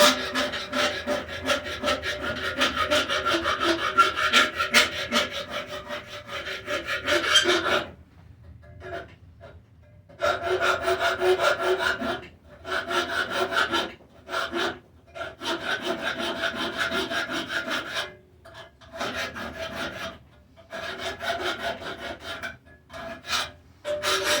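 A file rasps off the sharp, jagged edge of a chisel-cut steel rebar, shaped into a heart for a candle holder. Rhythmic scraping strokes come close and loud in steady bursts, separated by short pauses, with no talk.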